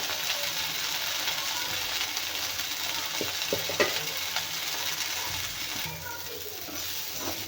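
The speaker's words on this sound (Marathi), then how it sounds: "तर इथे मस्त मी कोथिंबीर भाजून घेतलेली आहे" Coriander leaves are dry-roasted in a pan to draw out moisture, giving a steady soft sizzle and rustle with occasional scraping stirs of a utensil against the pan, fairly close and even throughout.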